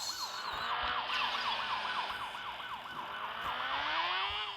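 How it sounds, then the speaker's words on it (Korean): A wailing ambulance siren at an accident scene, heard from a motorcycle, cycles rapidly up and down, loud and continuous, with traffic rumble underneath. "앰뷸런스"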